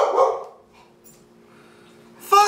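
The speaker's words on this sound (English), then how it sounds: "Fucking dog. Just come here and bark and stare at me." A dog barks a few times at close range, with a loud burst at the start and another at the end and a quiet stretch between, heard indoors during a toy unboxing.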